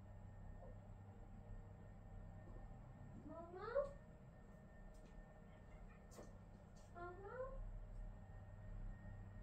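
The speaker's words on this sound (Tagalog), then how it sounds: "Tingnan mo, may kinakausap yung pusa namin." A pet cat gives two faint, drawn-out meows a few seconds apart, rising then falling in pitch, over a steady low hum and a few small clicks.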